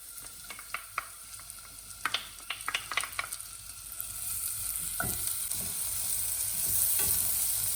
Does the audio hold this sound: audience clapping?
no